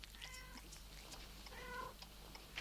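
Cats meow close by, with a couple of drawn-out wavering cries separated by a short pause over a quiet low hum, in a scene from a 1977 horror film.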